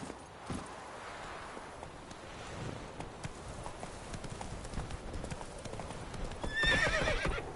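Horse hooves clip-clop at a steady trot in The Witcher 3 video game, a continuous rhythmic patter close by under ambient outdoor sound, with a brief whinny near the end.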